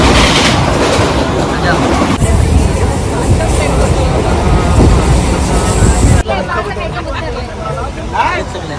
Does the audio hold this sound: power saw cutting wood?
no